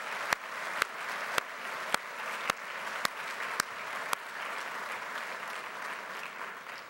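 Audience applause at a policy talk on shared US and Israeli strategies, a continuous bed of clapping with a sharp louder clap about every half second standing out near the front, lasting about seven seconds before easing.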